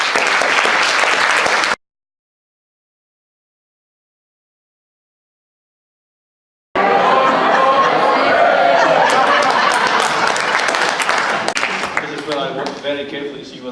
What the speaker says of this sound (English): That's a big warm round of applause for Conor.